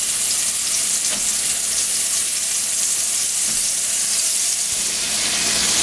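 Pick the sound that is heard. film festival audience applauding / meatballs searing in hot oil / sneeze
meatballs searing in hot oil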